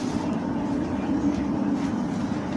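A class 730 electric train runs between Aston and Witton past Villa Park, a steady, continuous rumble and rolling hum heard from on board, with no talking.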